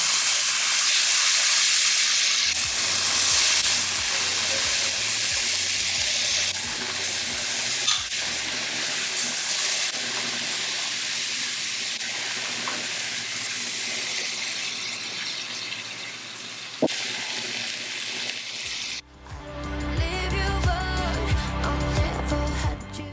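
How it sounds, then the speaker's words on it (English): Marinated chicken sears in an already hot pan, a loud steady sizzle and hiss with steam filling the whole stretch, a few clattering stirs and a sharp knock near the end. "So I'm just going to go ahead and throw it in this pan that is already hot to kind of sear it"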